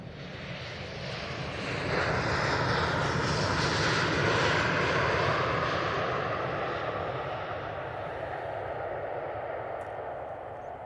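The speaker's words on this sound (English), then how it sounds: "KLM 737 now coming in. Short flight from Amsterdam." A KLM Boeing 737 arriving from Amsterdam lands at Manchester Airport, its jet roar swelling into a broad, loud rush that peaks midway and slowly fades, heard from outdoors with no talking.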